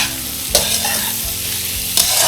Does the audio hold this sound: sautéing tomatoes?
yes